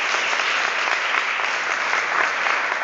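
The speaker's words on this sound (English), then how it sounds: "Give them a round of applause" A crowd applauds steadily, a dense, even wash of clapping from many hands that holds at full strength for the whole stretch without pause.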